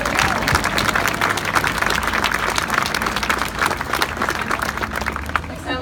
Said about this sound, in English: can we just give him one last round of applause?